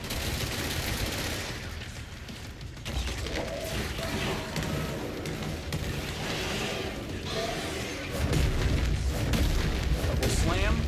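Bombs burst in the action game Control, one after another in a dense, continuous roar of booms and crackling debris that swells louder toward the end.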